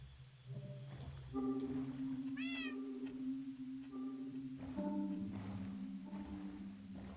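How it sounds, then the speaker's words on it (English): A cat meows repeatedly in the Minecraft video game, several drawn-out and rising meows over a sustained droning background tone, with no talking. "Come on, cat."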